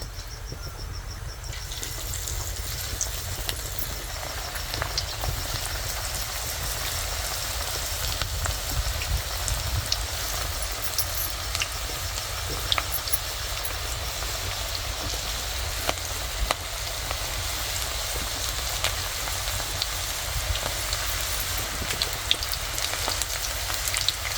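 Food frying in hot oil in a home kitchen, a constant dense crackle and sizzle with scattered louder pops, close and steady for the whole stretch with no talking.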